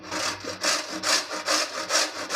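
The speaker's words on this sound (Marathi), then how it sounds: "आता इथे मी मोठी किसणी घेतलेली आहे आणि आपल्याला भोपळा किसून घ्यायचा आहे" Bottle gourd grated on a large grater in a home kitchen, five or six rhythmic rasping strokes repeating about every half second, close and fairly loud, with no voices.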